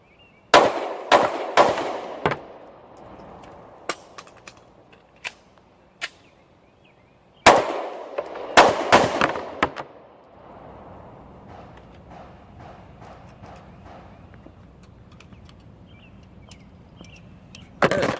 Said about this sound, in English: today I'm firing Federal 115 grain full metal jacket brass